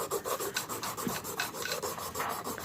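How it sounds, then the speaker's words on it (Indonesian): Steady rasping scrapes of 80-grit sandpaper rubbing back and forth over a Yamaha NMAX/Aerox 155 scooter pulley, repeated in quick even strokes, close up with no voices. "ini bisa kita amplas dengan menggunakan amplas nomor 80 seperti ini"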